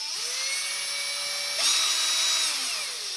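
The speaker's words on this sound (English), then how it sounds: "So let's drill another hole." Power drill boring a hole for a mounting board, a close, steady motor whine that rises in pitch as it speeds up midway, then holds and slowly winds down, with no voices.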